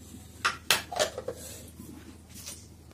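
Coarsely ground masala for Odisha-style dalma being scooped out into a metal pot, giving a few sharp metallic clinks and scrapes of a spoon against the vessel, close up, with no talk.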